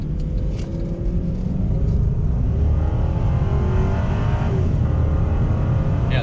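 A Cadillac XLR's Northstar V8 pulls hard on the highway, heard as a steady, fairly loud engine drone and road rumble from inside the car. No one talks.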